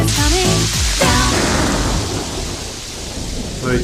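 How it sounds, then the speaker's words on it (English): Rain and rolling thunder used as an effect in a children's umbrella song, a loud steady downpour with deep thunder rumbles building and fading, while brief sung voices break through near the start and the end. "I gotta tell you the rain is coming down."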